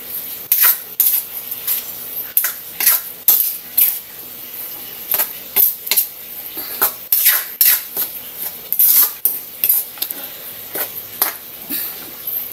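A spoon stirs mung bean stew in a metal cooking pot, making repeated scraping and clinking strokes in an uneven rhythm with short pauses between them.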